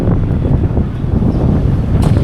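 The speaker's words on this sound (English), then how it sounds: "It's been windy today since we got on the road." Strong wind at a roadside gas stop in North Sioux City, South Dakota buffets the microphone in a loud, continuous low rumble with no pause.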